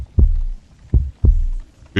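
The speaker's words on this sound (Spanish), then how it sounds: "el corazón latía con mayor violencia, cada vez más precipitadamente y con más ruido" A heart pounds in a dramatic reading of a horror tale about a guilty heart: heavy, close, booming thumps, paired beats spaced about a second apart and rising at the end, with no voice over them.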